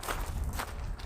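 Footsteps crunch steadily over loose rocks, close and fairly loud, with a couple of stronger scuffs standing out from the gritty shuffling.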